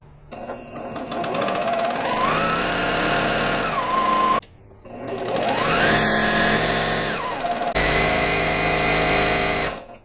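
A sewing machine runs a seam on a tote bag in two long, steady bursts of fast whirring stitches. Each run speeds up and then slows, with a short pause between them and a brief mechanical clatter at the end.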